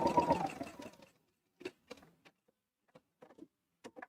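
Sewing machine stitching fabric for a water bottle holder: a brief motor whir up front, then a few short, sparse stitch clicks and taps separated by quiet gaps.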